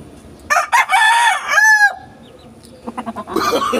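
Pet pumpkin hen clucking close by in a loud run of calls, with one drawn-out squawk in the middle and quieter clucks toward the end, heard alone without speech.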